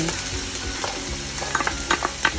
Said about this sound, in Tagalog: I'll put right now the garlic for our paella, for